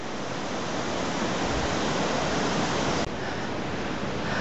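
Steady roaring rush of a waterfall, dense and continuous with no pauses, close and loud throughout.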